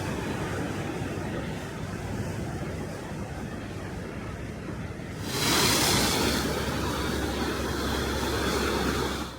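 Ocean waves breaking along a rocky coastal walkway on Korea's east coast, a continuous rushing surf roar with a louder wash swelling midway, mixed with some wind.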